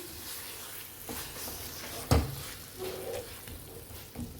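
A spoon stirs soya chunk and potato curry with tomato paste in a pan, soft scraping and a low sizzle, with one sharp knock of the spoon against the pan midway.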